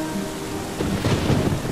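Rain pours steadily with a deep roll of thunder swelling midway, a dense wash of falling water beneath a low rumble.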